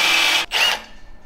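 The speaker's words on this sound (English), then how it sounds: "We'll just drill it out." A power drill whirs loudly, cuts out for an instant, then spins up again and winds down, close by, drilling out a bolt on a car exhaust.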